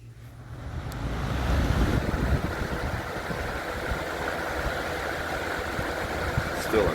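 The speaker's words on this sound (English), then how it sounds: "Still a great working fan" A vintage 1987 Kmart model 223 electric fan runs on its high setting, a steady, close whooshing rush of air with a low motor hum that holds even and continuous throughout.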